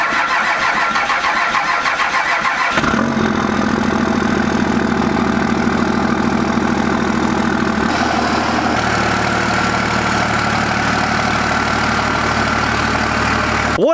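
A 24V Cummins diesel in a truck cranks briefly and fires, then settles into a loud, close, steady idle with a deep, even rumble that shifts slightly partway through.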